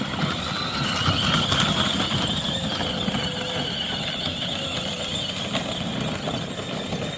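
A small ride-on RC car drives through snow, giving a steady mechanical whir and rattle of its motor and gearing close by for the whole stretch.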